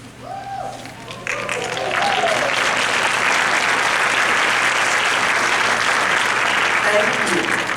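Loud, steady applause fills a large indoor meeting as floor team members stand and wave, beginning after a short spoken announcement and continuing as a dense wash of clapping.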